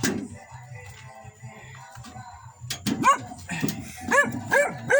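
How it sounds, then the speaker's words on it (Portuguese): A dog barks and yips in a series of sharp, close calls that grow more frequent toward the end, over a quiet outdoor background with brief talk at a bonfire gathering. "E cachorro, deixa de latir"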